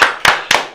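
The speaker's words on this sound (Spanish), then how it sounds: "Un aplauso a" Studio applause on a radio show comes as three loud, close bursts of clapping, each a short wash of claps, with no talking over it.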